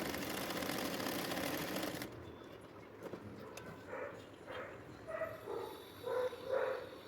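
A sewing machine stitches the side seam of a fatuhi garment, running in a steady close whir for about two seconds before stopping, followed by quieter handling and clicking sounds.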